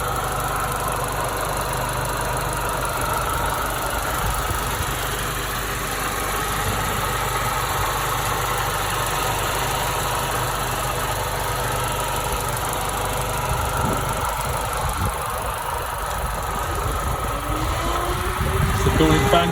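A MINI Cooper S John Cooper Works GP engine idles steadily nearby, a continuous even hum with faint mechanical hiss, and a cooling fan seems to swell slightly toward the end.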